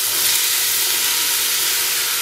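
Eggplant for ratatouille hits a hot pan with a loud, steady, bright sizzle that hisses continuously without a break.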